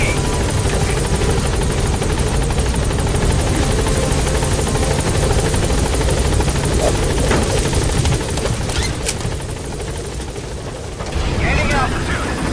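A support helicopter in Metal Gear Solid V: The Phantom Pain thunders loud and close with continuous rotor chop, while a radio voice speaks over it.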